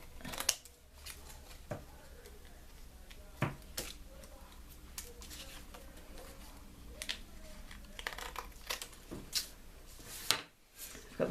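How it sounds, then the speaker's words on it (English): Scissors snip around the edge of a handmade paper greeting card during a card-making session, giving a series of sharp, irregular cuts up close, each one standing out clearly against a quiet room. "now we can trim"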